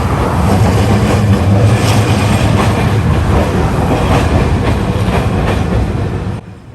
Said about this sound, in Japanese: ダイヤモンドクロス通過時の音が気持ちいいですね。